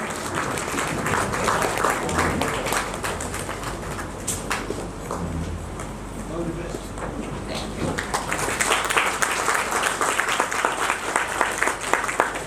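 Audience applause at an Onam cultural programme in Odakkuzal, welcoming a guest onto the stage: steady crowd clapping, moderately loud and continuous, with a slight swell toward the end and no speech over it.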